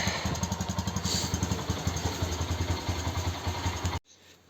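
Bajaj Boxer motorcycle engine idling and warming up after three months of sitting, a steady loud rhythmic chug that cuts off abruptly near the end.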